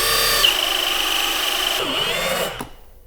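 A 1.5-inch auger bit bores into end-grain wood with a steady, loud drill whine and grinding that runs continuously for about two and a half seconds, dips once in pitch partway through, then cuts off abruptly.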